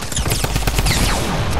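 Rapid SMG gunfire in a video game, a loud close stream of sharp automatic shots in quick rhythm with ringing, whining tails over roughly a second and a half.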